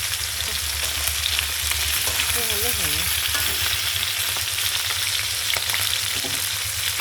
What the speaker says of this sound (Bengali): মাছটা ভাজা একটু করলে হয়